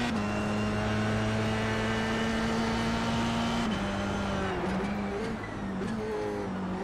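An F1 car driven in the iRacing simulator holds a steady, loud, high-pitched engine whine, with pitch shifts and gear changes as it slows and picks up again near the end.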